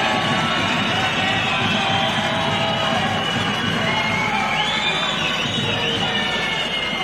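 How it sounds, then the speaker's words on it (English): Parliamentary chamber audience applauding members of parliament at a bill signing, a dense steady wash of clapping and crowd noise filling the room, with some voices mixed in. "Let's clap for the members of parliament."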